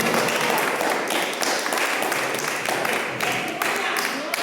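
Congregation clapping during a church service, a dense, steady patter of many hands that carries through the whole stretch at moderate level with faint voices mixed in.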